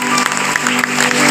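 Audience clapping at a Christian sermon gathering, a brief dense burst of applause that stays loud and steady throughout with no talk over it.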